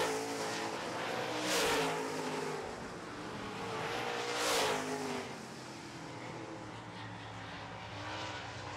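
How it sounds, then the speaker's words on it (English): Late model race cars roar around a short oval track during a heat race, engines droning steadily with two louder passes swelling by in the distance. "Great battle between the two and the four down the back chute, and they are keeping it clean, racing door to door"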